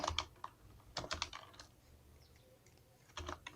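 Bursts of key clicks on a computer keyboard as HTML code is typed, quick rapid clusters separated by a short pause, close and fairly quiet with no talking.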